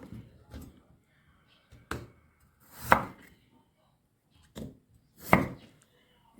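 A knife chops food on a cutting board, five or six separate thuds spaced a second or so apart with quiet gaps between, close and clear.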